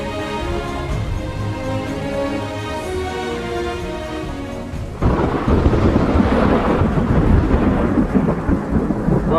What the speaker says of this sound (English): What is thunder and lightning?